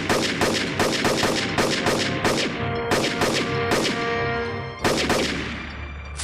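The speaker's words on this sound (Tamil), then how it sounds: "அந்த துப்பாக்கி சத்தம்." Gunshots in an animated adventure cartoon ring out as a rapid string of sharp, loud cracks, fired close together with slight irregular gaps and ringing tails.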